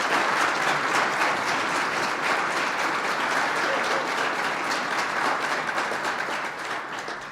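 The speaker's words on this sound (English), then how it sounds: "Would you give the Second Lady of the United States another vigorous round of applause?" Sustained, vigorous applause from an audience at a formal reception in honor of the Second Lady of the United States, dense and steady throughout before easing slightly at the end.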